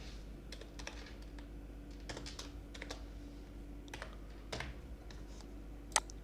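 Quiet, irregular clicks of a computer keyboard as code is typed, with short bursts of keystrokes and brief pauses and a sharper tap near the end, alone without talk.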